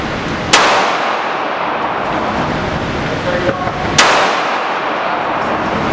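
Two sharp gunshots at an outdoor shooting range, the second about three and a half seconds after the first, each cracking loudly over steady wind and background noise, with a faint metallic clang between them.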